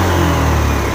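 A Honda Beat FI motorcycle engine with a sputtering fault, held at full throttle, roars loud and close in a steady, continuous rev with a rough, uneven edge.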